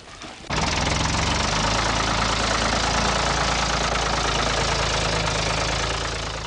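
A 200 horsepower tractor pulls a plough through farm soil in Crete. Its loud, dense engine drone kicks in after a brief moment and roars steadily and close throughout.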